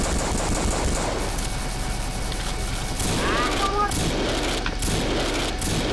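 Dense bursts of rapid gunfire in Codename Cure, loud and continuous, with a whooshing sweep in the middle and sharp shots near the end.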